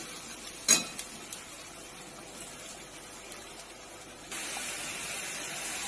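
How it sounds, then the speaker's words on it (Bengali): Onion stirred and fried in a pan until it colours: a single sharp utensil clatter early on, then a faint, steady sizzle that swells louder toward the end, with no voices. "পেঁয়াজটা খুব ভালো করে আমি নাড়াচাড়া করে ভেজে নেব।"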